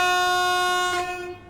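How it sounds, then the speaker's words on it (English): A train horn sounds in Train Sim World 4, one loud sustained multi-tone blast that holds steady and then fades and cuts out after about a second and a half. "Oh, the horn wants to actually work now."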